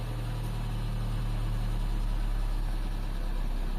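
A Toyota Corolla with an erratic idle, now settled at 700 rpm, runs with a steady, close, low engine hum and no pauses or talk.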